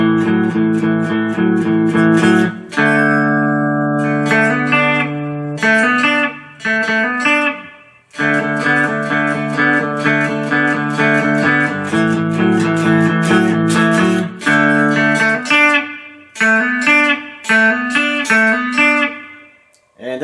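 Cigar box guitar lick played slowly and plucked note by note, close and clear, with brief pauses and restarts between phrases.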